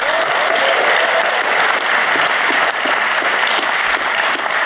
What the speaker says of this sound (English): Please give a warm round of applause to each one of these nominees.